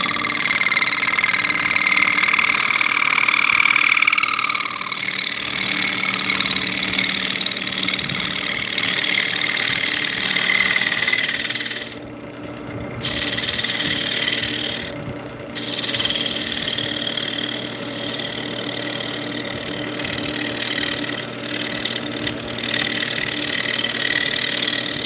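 A wood lathe turning a bowl gives off a continuous rough, rasping chatter of the tool against the wood, loud and close, broken by two brief pauses.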